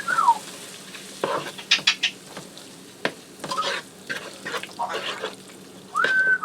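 A taco casserole mixture is stirred in a sizzling pan, with scraping utensil strokes and clatter over a soft sizzle, in irregular close bursts and no talk.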